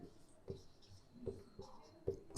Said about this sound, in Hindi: थोड़ी सी प्योर हिंदी लिख रहा